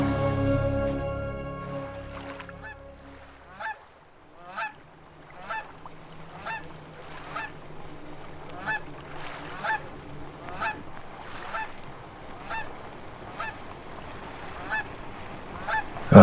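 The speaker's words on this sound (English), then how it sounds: "Just the water and the birds." Geese honk again and again near water, a steady string of loud calls at fairly even intervals over calm outdoor ambience, heard through an open car window, with no talking.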